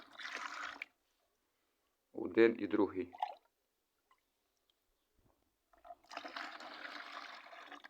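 Liquid chicken-manure fertilizer pours into a bucket in two short runs of about half a litre each, with a brief spoken remark between them, then a longer steady splash of pouring.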